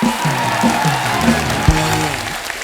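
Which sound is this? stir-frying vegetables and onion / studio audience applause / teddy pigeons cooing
studio audience applause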